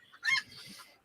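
Chickens clucking, a short burst of fowl vocalizing at moderate distance, one brief squawk followed by softer murmuring clucks, fairly faint and alone.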